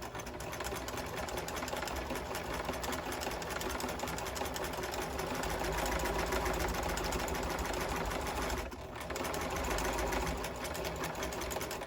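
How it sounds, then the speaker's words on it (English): A sewing machine backstitches the start of a fabric seam in a steady, fast mechanical whir that runs nearly unbroken for about twelve seconds, close and even in loudness, with no talking. "I'm going to back stitch at the beginning"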